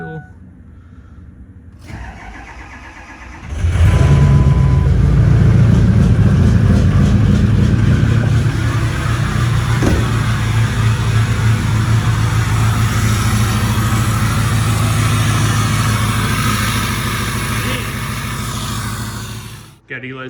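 A turbocharged 1962 Chevy engine cranks and catches, then settles into a loud, rough, steady idle close by that runs on for many seconds before shutting off.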